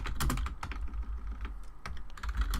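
Rapid close typing on a computer keyboard while writing C++ game code, a dense burst of crisp clicking key strokes with a brief lull midway, no voice.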